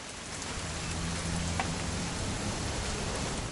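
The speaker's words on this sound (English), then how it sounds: "It's gonna rain the whole weekend, isn't it?" Steady rain falls in the video game What Remains of Edith Finch, an even, continuous hiss of drops on surfaces with a faint low rumble beneath, no voices.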